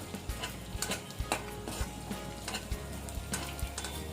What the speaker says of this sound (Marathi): आता मी इथे तूप घालते थोडा थोडा डिंका घालून आपल्याला तो फुलवून घ्यायचा आहे